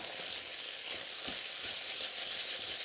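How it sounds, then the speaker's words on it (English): Beef stroganoff soup simmers and sizzles steadily in a pot as Dijon mustard is stirred in, a short, soft, even bubbling hiss with a faint stirring knock. "So, a scoop of Dijon mustard. And we'll just stir that in."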